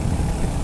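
Royal Enfield Hunter 350 motorcycle engine running with a steady, low, throbbing rumble, close and loud over a very brief moment, with no voices.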